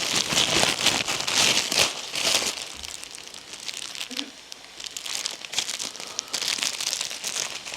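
A yellow cargo package is torn open and unwrapped, with loud, close plastic crinkling and rustling in bursts, a quieter pause in the middle, then more crackling handling of the wrapping.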